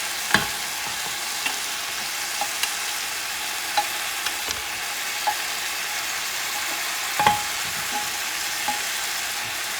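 Goat meat fries in a pan for stew, giving a steady, loud hiss with occasional sharp pops and crackles and no talking.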